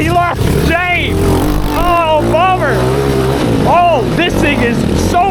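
A cheap 250cc five-speed engine on a go kart buzzes and revs up and down on a track, loud and close, while a person talks and shouts over it.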